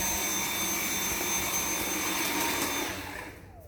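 Dyson V7 cordless vacuum cleaner running during whole-house cleaning, a loud steady high-pitched motor whine and airflow roar close by, then powering down and fading at the end.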